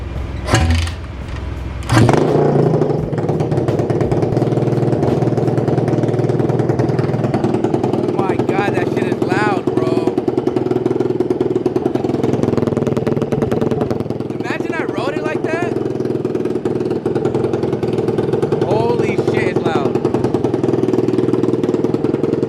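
A Nissan Skyline GT-R with no exhaust fitted fires up at a JDM car meet: a sharp cranking burst, then a loud, raw, close idle that drones on with small throttle blips while people talk nearby.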